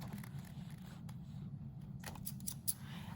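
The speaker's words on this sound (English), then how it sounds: "let's go ahead and cut on that curved line that you just drew" Scissors snip through folded paper along a curved line, a few quiet crisp cuts close by against faint background hum, with no talk.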